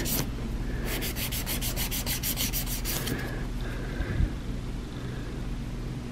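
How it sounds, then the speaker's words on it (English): A nail file rasps against a fingernail in a rapid series of short, even strokes for about three seconds, then a few softer scrapes follow, close and clear with no talking. "You're actually looking at what you're filing"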